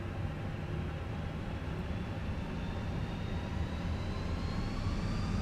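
Fenix A320 jet engines spool up in Microsoft Flight Simulator 2020, a steady low roar with a thin whine that rises gradually in pitch throughout, heard alone without talk.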